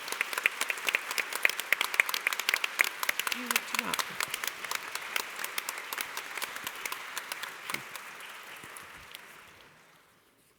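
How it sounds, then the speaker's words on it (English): An audience at a moderated panel on the future of workforces and workplaces gives the speakers a sustained round of applause, crisp clapping lasting about nine seconds before fading away, with a brief spoken voice partway through. "give everyone and all the speakers a round of applause"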